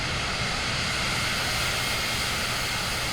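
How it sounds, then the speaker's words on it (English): An airplane taxiing on a runway in Microsoft Flight Simulator 2024, a steady loud engine drone with broad constant noise and no pauses or talking. "We're gonna do some fast taxiing just because I don't like being out on a runway for taxi."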